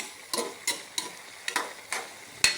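Papaya slices being flipped in a frying pan while cooking nilagang boyba, five or six short clattering turns over a faint sizzle, ending with a sharp click.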